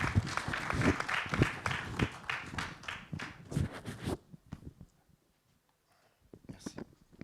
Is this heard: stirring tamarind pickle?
no